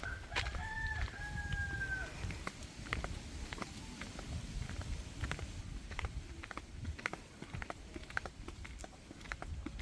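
A rooster crows once in the distance while chickens cluck and peck nearby, over a soft outdoor background with scattered taps.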